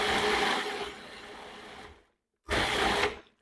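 A kitchen blender whirs through grilled pineapple salsa ingredients, a loud steady buzzing pulse for about two seconds that eases lower, stops briefly, then kicks in again for a short second burst.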